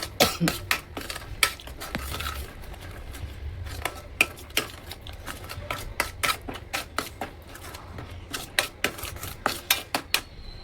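A spoon clatters and scrapes rapidly against a pan while spices, including red chilli powder and garam masala, are mixed for a potato and brinjal curry, with dense metallic taps over a low background hiss.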